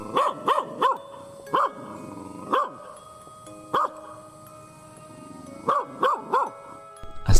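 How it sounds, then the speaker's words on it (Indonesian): A dog barks out in the quiet of a night scene, loud and sharp, in short bursts of two or three yaps separated by pauses, with no voices over it. "terdengar gonggongan anjing yang entah ada di mana"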